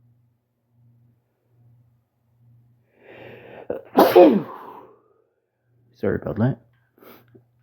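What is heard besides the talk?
sneeze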